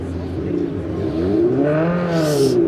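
A car amplifier plays a simulated Boxer four-cylinder engine note at a SEMA show in Las Vegas, a close, loud rising and falling engine tone that sweeps upward over a couple of seconds, with a little noise around it.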